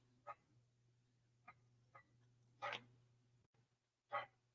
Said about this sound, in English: I hope y'all can't hear my neighbor's dog.